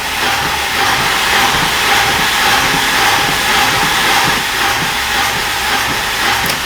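A Fiat Seicento engine fitted with a compression gauge is floored at full throttle, producing a loud, steady hissing, rushing roar that holds without pause throughout, with no talk over it.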